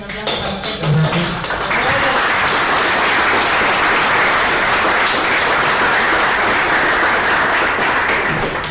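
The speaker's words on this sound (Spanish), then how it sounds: "un aplauso para ustedes" Audience applause closing a school-style program, brief voices at the start and then sustained, dense clapping that fills the rest of the stretch.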